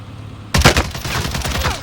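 Sudden burst of rapid automatic gunfire in Call of Duty Warzone, loud and close, a quiet lull breaking into a dense, sustained volley of shots.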